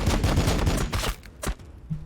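Rapid burst of gunfire from the Warhammer 40,000 strategy game Battlesector, dense clustered shots filling the first second, then a couple of sharper isolated reports and a fading tail.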